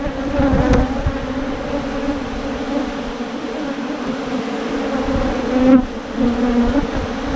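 A dense, steady buzzing of many bees close by, droning continuously with small swells in loudness.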